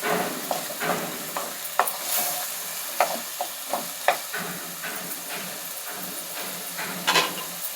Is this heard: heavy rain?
no